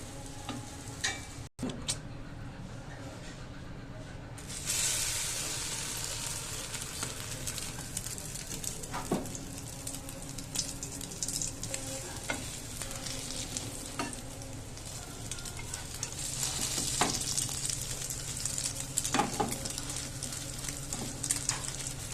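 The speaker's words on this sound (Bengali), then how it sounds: "দেখেন আমার রুটি দিয়ে পাউরুটি ভাজা হয়ে গেছে" Egg-soaked bread slices fry in a pan with a steady, close sizzle that swells and fades across the clip. Light clinks and ticks from turning the pieces come through, with no talk.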